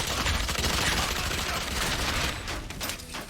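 Rapid automatic gunfire in the tactical shooter game Valorant, a loud dense burst of shots for a few seconds that then trails off.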